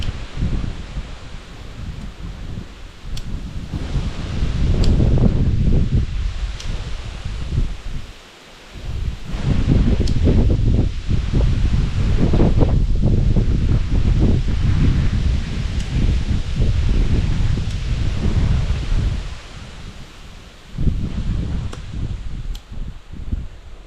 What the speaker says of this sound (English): we got some wind blowing, so just gotta give that a second